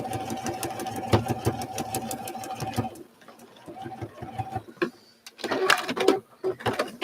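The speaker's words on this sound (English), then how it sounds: "and I'm just sewing these stripes to meet up with the outside stripes" A sewing machine stitching stripes on a quilt runs in fast, rhythmic clatter, stops, then starts again in shorter bursts, close by, with a voice speaking between runs.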